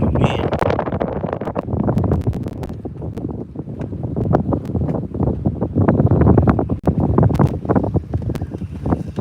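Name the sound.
wind blowing outdoors on a fishing boat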